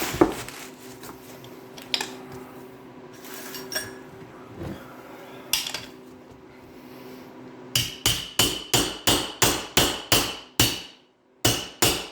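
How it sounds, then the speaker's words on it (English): A run of sharp metallic hammer taps on a 1968 Pontiac GTO power steering pump, about a dozen strikes in quick succession, close and loud, following a stretch of quieter knocking and clatter. "Alright, little hammer."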